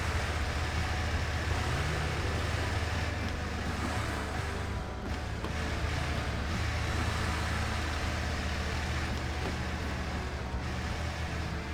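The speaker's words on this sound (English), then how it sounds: "This truck's engine is louder than other engines" A truck in the off-road driving game Expeditions, set in Arizona, with an engine louder than others, roars in a steady, dense, unbroken drone for the whole stretch with no talk.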